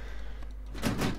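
A door opening or closing in the video game 7 Days, a muffled scrape and thud rising over a low steady hum near the end of the moment.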